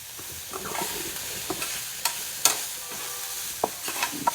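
Cluster beans being sautéed with turmeric, chilli and coriander powder, with soft sizzling and a few sharp scrapes and taps of a spatula stirring in the pan. No one speaks.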